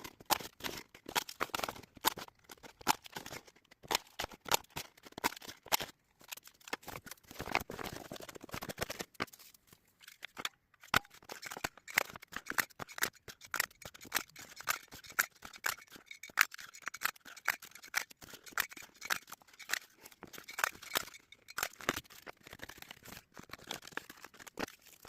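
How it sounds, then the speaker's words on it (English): Scissors snip steadily through paper, cutting out a printed page in quick, irregular bursts of crisp close clicks and rustles, with brief pauses between runs and no talking. "So I cut out all of that page"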